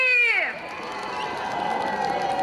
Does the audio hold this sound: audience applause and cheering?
yes